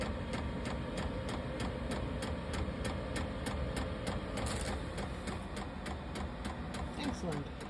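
Diesel heater running inside a tiny camper house, a steady mechanical hum with regular rapid clicking pulses from the fuel pump, heard close and continuous.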